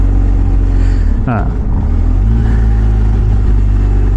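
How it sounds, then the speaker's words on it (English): A car engine revs up hard beneath steady loud road rumble, a brief rising surge that then settles back into a constant drone, heard from inside the moving vehicle. "Rev my engine."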